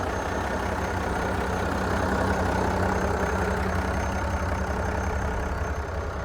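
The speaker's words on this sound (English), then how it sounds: "But it's idling nice and good now." A military semi truck's diesel engine idles steadily after its clogged fuel filter was cleaned, a close, continuous low rumble with no voices.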